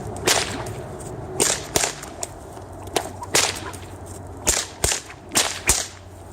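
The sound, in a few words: two-handed whip cracking routine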